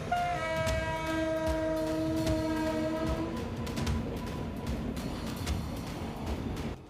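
A train passes on a railway track through tiger forest, its horn blaring steadily for a few seconds over a continuous rumble of wheels and cars that carries on after the horn stops.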